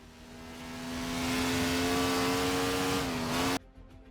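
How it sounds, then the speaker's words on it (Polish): A BRM V16 Formula 1 racing engine screams at high revs, a loud, sustained, buzzing tone that builds over the first second, holds steady, dips slightly in pitch, then cuts off abruptly. "Silnik V16 konstrukcji BRM jest znany przede wszystkim ze swojego bardzo charakterystycznego dźwięku"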